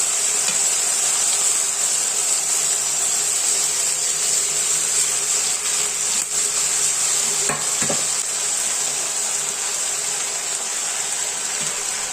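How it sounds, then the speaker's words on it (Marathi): Mixed vegetables for Maharashtrian bhogi bhaji sauté in a generous amount of hot oil, giving a steady, loud sizzle throughout with a couple of brief stirring scrapes near the middle and no talking. "आपण ज्या सगळ्या भाज्या घेतल्या त्या तेलात छान परतून घ्यायच्या"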